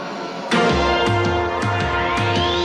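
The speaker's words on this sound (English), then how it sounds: "The cars are rolling." CART Indycar race cars roll at Road America during the 1994 Texaco Havoline 200, their engines droning loudly and steadily with repeated revving surges and rising whines as the field passes close by.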